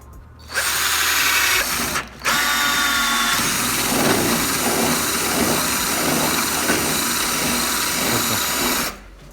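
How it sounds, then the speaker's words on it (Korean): A power drill bores a hole through a car's rear body panel for mounting a backup camera, a loud steady whine running about eight seconds with a brief pause near the start, no talking. "이런 식으로 이제 구멍을 뚫어주고 여기에 이제 카메라가 위치하게 됩니다"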